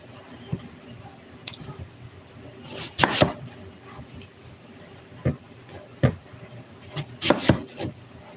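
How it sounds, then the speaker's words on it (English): Granny Smith apples being chopped on a board, scattered knife strikes with a few louder clustered chops, close by against a quiet room with no talk. "I'm going to cut them up and put them in my pan"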